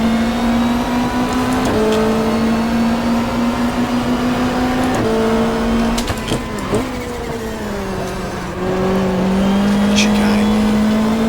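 Race cars from the 1995 Australian Super Touring Championship at Winton in the GTR2 racing game, a loud engine drone holding steady then shifting pitch through gear changes, with other cars nearby and faint commentary underneath.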